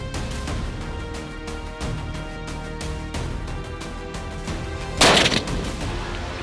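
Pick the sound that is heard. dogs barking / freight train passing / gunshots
gunshots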